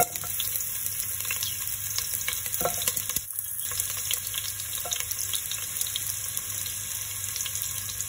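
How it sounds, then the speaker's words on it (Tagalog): Sliced ginger sizzles in hot olive oil in a pan, the base for spare ribs with dark vinegar: a steady, close, crackling fry that runs throughout, with a few brief clinks and stirring scrapes. "So, mainit na yan. Lagay natin yung luya."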